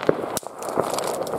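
Firecrackers pop outdoors during a New Year's Eve night walk in Germany, a few sharp cracks scattered over about a second and a half, one especially loud and close, with crackling noise around them.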